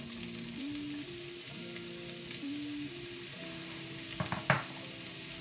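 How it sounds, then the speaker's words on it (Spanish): Chopped onion frying in hot oil gives a steady, close sizzle, with a few sharp clatters of stirring near the end and background tones throughout; no talking. "vamos a añadirle la cebollita"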